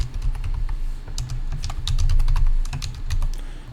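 Rapid, uneven keystrokes on a computer keyboard as an admin login is typed, a close run of clicky taps over a low steady hum, with no voices.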